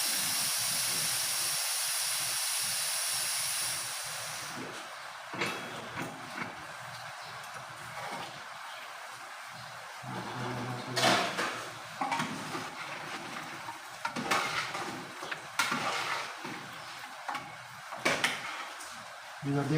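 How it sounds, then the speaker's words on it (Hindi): Steam hisses steadily from a covered pot of goat karahi gosht, then the lid is slowly lifted with soft metallic scrapes and clinks while someone speaks nearby. "ये मेरा गैस जो है निकल चुका है, हम धीरे धीरे ढक्कन को खोलेंगे"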